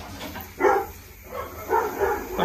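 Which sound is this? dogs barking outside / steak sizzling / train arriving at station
dogs barking outside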